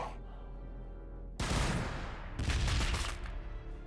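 Squad gunfire in Warhammer 40k Battlesector erupts in two loud bursts of overlapping shots and booms, rising abruptly over a steady low battlefield drone.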